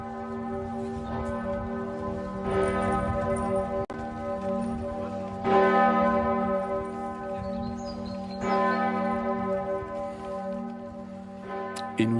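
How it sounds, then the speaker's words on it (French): Church bells of Notre-Dame de Reims ring out in a steady, resonant peal, layered overlapping strikes swelling and fading, with no voices. "des cloches qui sonnent à la mémoire du pape François"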